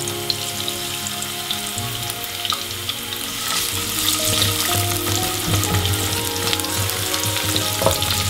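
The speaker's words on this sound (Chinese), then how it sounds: "爆香蒜后呢，我们再把香菇放在里面" Garlic and shiitake mushrooms sizzle in hot oil in a wok, a continuous crackling hiss that grows fuller and louder partway through, with faint stirring and no voices.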